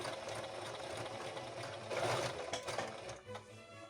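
Sewing machine stitching a zipper seam, running at a steady whirring pace with a continuous close mechanical hum that briefly speeds up before slowing near the end.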